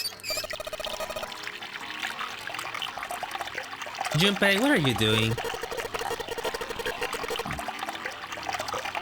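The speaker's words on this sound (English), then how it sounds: "I'm running the water." Water pours and trickles steadily from a faucet in the Zero Escape: 9 Persons 9 Hours 9 Doors game, running continuously under conversation and background music, with a brief louder swell midway.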